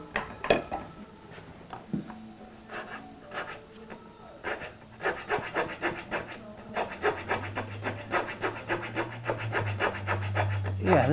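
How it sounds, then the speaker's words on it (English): A wood rasp shapes part of a guitar, a copy of a 1964 ES 335, giving quick repeated scraping strokes in uneven bursts that grow steadier and denser, with a low hum underneath toward the end. "I think the rasp might be the secret weapon here"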